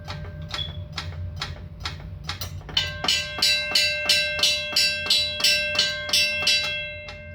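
A faulty railroad crossing bell is struck by its hammer, first in slow, uneven hits, then in a steady rapid ringing with a bright metallic tone.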